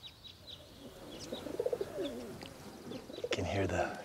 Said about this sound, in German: Man hört die Tauben gurren